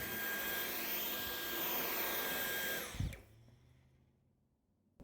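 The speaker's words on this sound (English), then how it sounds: "It is so satisfying to see the Dyson V11 cleaning this debris" A Dyson V11 cordless stick vacuum cleans debris from a carpet with a loud, high-pitched whine, then switches off around the three-second mark and spins down to near silence.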